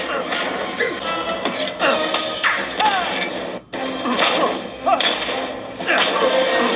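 Rapid, chaotic bursts of Injustice fighting game combat played on a tablet: whooshing whips, crunching smashes and thuds pile up densely, with brief grunts and shouts mixed into the fray.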